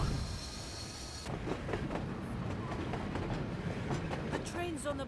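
Train crossing a bridge in the flight combat game Air Conflicts: Secret Wars, a steady rumbling rattle with repeated clacking wheel beats under a continuous engine drone.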